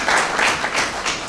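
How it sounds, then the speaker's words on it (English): Applause from an audience at a slow living summit, a dense, steady wash of many hands clapping at close range that swells in waves throughout, with no talking over it. "So big round of applause for Wyndham Groves, Orly Munzing, Jim Verzino."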